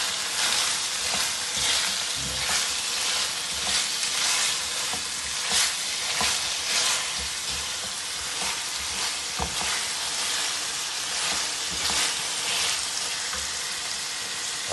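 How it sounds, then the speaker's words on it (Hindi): Beef keema for aloo keema sizzles and fries steadily in oil, with continuous crackling and intermittent scraping stirs close by, no voices. "ऑयल ऐड करने के बाद इसको भूनते हैं थोड़ा सा।"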